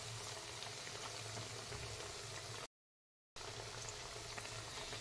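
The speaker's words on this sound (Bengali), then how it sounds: "তারপরে কিন্তু মিডিয়াম ফ্লেমে আমি এগুলোকে ভেজে নিচ্ছি।" Onion fritters fry in oil over a medium flame, giving a steady, even sizzle and bubble that runs throughout, broken by one short silent gap midway.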